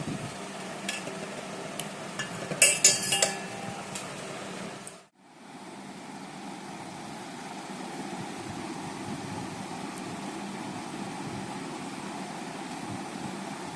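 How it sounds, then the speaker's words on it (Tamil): Boiled noodles stirred by hand into a peanut butter paste, with soft scraping and a brief clatter early on, then a short dropout before a steady, quiet background hiss continues. "நல்லா நூடுல்ஸ்லாம் போட்டுட்டு அந்த மிக்ஸோட நல்லா மிக்ஸ் பண்ணிக்கலாம்."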